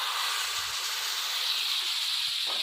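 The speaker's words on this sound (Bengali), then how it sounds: "এখন ওই যে টমেটো সিদ্ধ করার জলটা দিয়ে দেবো" Tomato-boiling water is poured into a hot pan of cauliflower and potato curry, producing a steady, loud steam hiss that lasts the whole moment with no talking.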